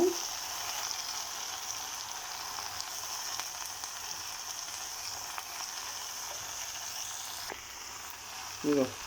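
Bottle gourd pieces frying in hot oil with curry leaves in a pressure cooker pan, a steady close sizzle throughout with faint clinks, no talk.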